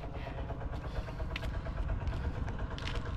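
A crop sprayer engine out in a hot farm field runs loud and close, a steady throbbing drone with slight rises and falls in intensity, no voices over it.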